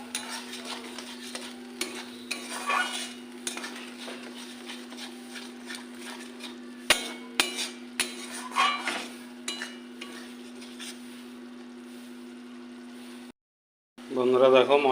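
Spice paste for a prawn malai curry with a little sugar stir-fried in a pan, giving a steady low sizzle with repeated scraping strokes of a spatula and a few sharp clinks, then a brief silence and a louder burst of stirring.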